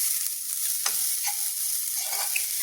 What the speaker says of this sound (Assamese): নাৰিকলৰ এই গুড়াখিনি মই ধুনিয়াকে ভাজি লৈছো কেৰাহী এখনত শুকানকৈ